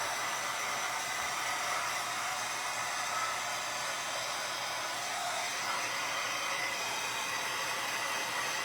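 A hair dryer blows steadily and close up, drying the edge of a cardinal craft print with a pen mark on a repurposed cookbook holder, a continuous even whoosh with no talking.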